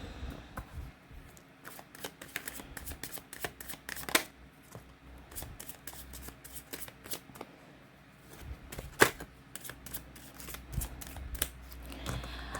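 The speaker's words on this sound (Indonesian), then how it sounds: "Sambil saya baca doa dan saya kocok kartunya" Tarot cards are shuffled by hand in steady, rapid riffles and taps, close and fairly soft, with a few sharper snaps along the way and no speech.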